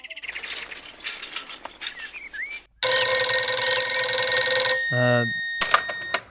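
A telephone rings loudly and steadily for about two seconds, following a stretch of chirpy, birdlike tones. A brief warbling trill comes after the ring.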